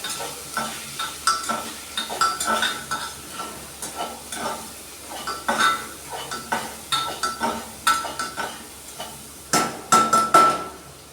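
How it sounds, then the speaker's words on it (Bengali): Onion and potato curry being stirred in a pressure cooker, a spoon scraping and knocking against the metal pot in a repeated uneven rhythm of sharp clinks over a low sizzle, close and with no talking. "দেবার পর আমি এটা নাড়তে থাকবো কুকারে।"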